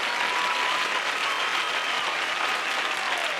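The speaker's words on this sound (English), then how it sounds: "Let me give Toby a freaking clap for that" Dense, steady applause on a podcast, a continuous even round of clapping that sounds like a crowd at constant loudness with no break.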